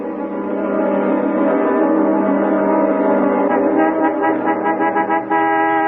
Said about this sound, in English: You're honking at us, lady.